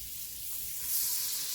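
Four tablespoons of butter melting in a pan on a stove set to medium heat give off a soft, steady sizzling hiss, faint and even for a moment with no voices.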